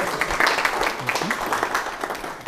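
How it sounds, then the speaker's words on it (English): Audience applause at an agri-finance workshop in Mbarara, Uganda, a dense wash of clapping from a room of attendees that holds steady, with some talk mixed in underneath. "Okay, then we applaud you."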